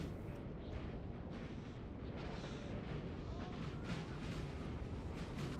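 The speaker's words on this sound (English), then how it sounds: "They need to watch their artillery." Napoleonic-era artillery fire in Napoleon Total War rumbles as a continuous, distant, low roar of cannon blasts across a battlefield, faint and steady throughout.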